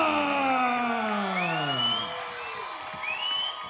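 A fight crowd at the Monona Terrace during a Chosen Few Fighting Championships event cheers and roars steadily as a dense, loud mass, with a few shouts and whoops rising above it before it settles slightly.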